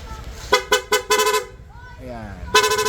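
A Honda Click V3 scooter's PIA horn beeps in several short bursts, then sounds one long sustained blast, close and loud.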